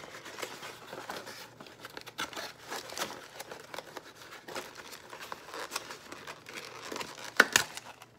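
Paper items are handled up close, giving soft crinkling and rustling with a few brief, sharper crackles near the end, quiet and with no talking.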